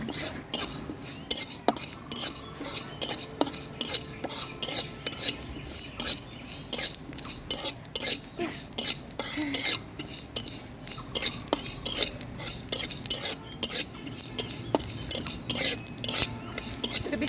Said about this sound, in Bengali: এখানে আমি কিছু জিরা নিয়েছি এবং পাঁচফোড়ন নিয়েছি এটা আগে ভেজে নিব